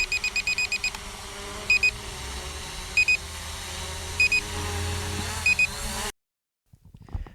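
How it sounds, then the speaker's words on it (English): An SJRC F11 GPS drone beeps while its camera angle is adjusted, giving short bursts of high beeps repeated at intervals of about a second over a steady background hum that cuts out near the end. "the drone beeps at me, or even when I adjust the angle of the camera, which I'm doing here, it beeps"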